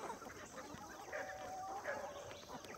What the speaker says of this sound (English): I got a place for roosters like you.